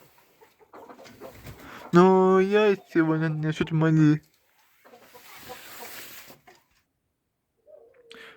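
Young hens on a home farm cluck softly and intermittently in the background while a person talks loudly over them.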